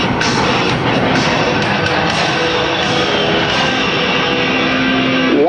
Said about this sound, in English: Ladies and gentlemen, from your right, Captain Green and the A-10 Thunderbolt II